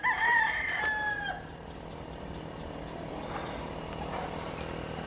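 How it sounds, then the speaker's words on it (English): Roosters at a small backyard rooster farm in Alaminos City, Pangasinan: one loud, close crow opens, then fainter crows and clucks from farther birds come over a steady low background hum. "We got like a little rooster farm going back here."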